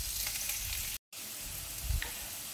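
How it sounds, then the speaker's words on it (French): Seasoned octopus pieces sauté in a pan with a steady, close sizzle and occasional stirring, briefly cut off for an instant. "Et je vais bien les faire revenir."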